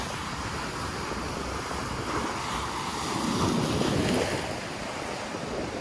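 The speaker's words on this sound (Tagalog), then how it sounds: "You can explore, see the sounds of the waves." Sea waves roll onto Azaiba beach, a continuous broad wash of surf mixed with wind buffeting the microphone, swelling briefly midway as a wave breaks closer.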